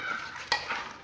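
Biryani ingredients being mixed together in a pot, a soft close scrape and stir with one brief sharper knock of the spoon midway, quiet and with no voices.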